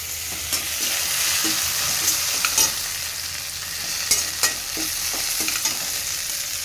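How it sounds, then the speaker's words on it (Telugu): Grated ginger and curry leaves fry in a pan with a continuous, moderately loud sizzle. Intermittent scraping taps from stirring run throughout, and no voices are heard. "కొంచెం అల్లం ఒక ఇంచు అల్లం తురుము ఇది మంచి ఫ్రై చేసుకోవాలి కరేపాకు"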